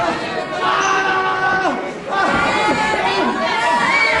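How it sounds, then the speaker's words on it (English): A ringside crowd at a Solihull wrestling bout, Tug Wilson against Salvatore Bellomo, shouts advice at the Italian wrestler. Many overlapping raised voices call out loudly and continuously, dipping briefly midway before surging again. "The crowd here at Solihull really advising the Italian every move"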